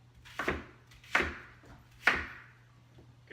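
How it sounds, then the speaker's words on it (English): A knife chops vegetables on a cutting board three or four times at an unhurried pace, crisp knocks over a faint steady hum. "I usually just give them a couple slices, a couple different directions"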